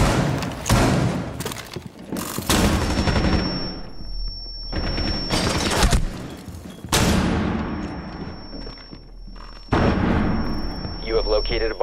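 Rainbow Six Siege gunfights crack out as a series of sharp, loud shotgun blasts and booming shots with quiet gaps between them, along with a steady high tone and game noise.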